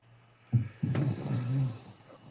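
Loud, close snoring from a sleeper, a short snort followed by one long rasping inhale, heard alone without talk.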